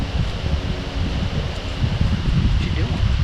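Strong gusty wind at a riverside campsite where a tent is set up, buffeting the microphone as a steady low roar that builds toward the end, with no talking.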